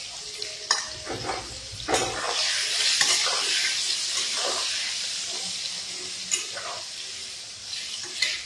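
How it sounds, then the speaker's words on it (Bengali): Brinjal pieces fry in hot oil left over from frying fish, a steady close hiss and sizzle with intermittent stirring scrapes and clatters throughout. "ওই তেল মাছ ভাজার তেলে বেগুন অল্প করে ভেজে নেব।"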